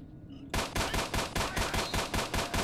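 Gunfire in the video game S.T.A.L.K.E.R. Shadow of Chernobyl, aimed through a scope. After a brief quiet moment comes a fast burst of about ten loud, evenly spaced automatic shots.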